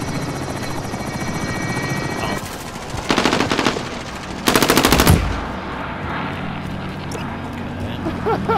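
Gunfire in Call of Duty Modern Warfare: loud bursts of shots crack out around three and five seconds, over a steady helicopter-like drone and rumbling game ambience.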